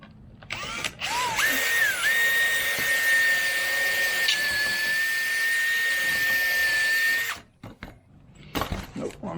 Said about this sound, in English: Drill and screw.